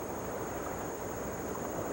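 Tidal bore wave surging up the narrow River Severn from its estuary, heard as a steady, dense roar of rushing water with no breaks or voices.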